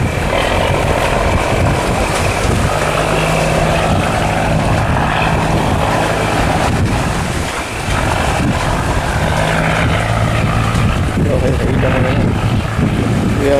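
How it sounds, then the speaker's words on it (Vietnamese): A large pair-trawling fishing boat returning to port in strong wind, its engine a loud, steady, close low drone with a throbbing hum running throughout, while someone talks over it. "Cái tiếng máy nhìn rất là đã nha."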